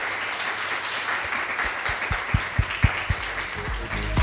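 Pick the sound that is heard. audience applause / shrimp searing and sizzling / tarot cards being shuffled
audience applause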